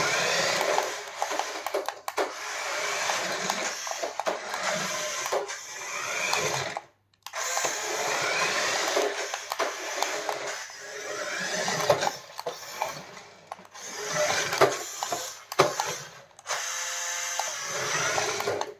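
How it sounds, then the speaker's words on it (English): A big 1/14 scale CMJ Lamborghini Aventador RC toy car drives about, its small electric motor whirring in bursts that rise and fall, with brief pauses between runs and no talking. "Let's see how it drives. This is the big 1/14 scale Lamborghini Aventador from CMJ."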